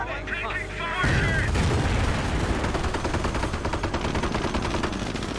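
Gunfire erupts in the Company of Heroes video game, American campaign. A dense, continuous burst of rapid shots and booms starts after a second and carries on loud to the end, with game voice lines mixed in.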